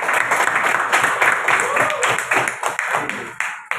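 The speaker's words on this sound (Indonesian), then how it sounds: "tepuk tangan untuk kami" Children in a classroom clap together in a steady burst of applause that runs throughout, with voices mixed in underneath.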